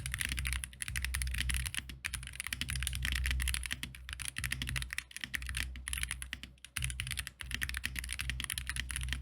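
Fast, continuous typing on a WAIZOWL Lightning 60HE gasket-mounted 60% gaming keyboard, dense close-up key clacks with a deep, padded thock and brief pauses between bursts.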